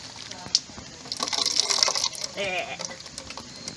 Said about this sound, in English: You want to soak it until water starts coming out of that spout.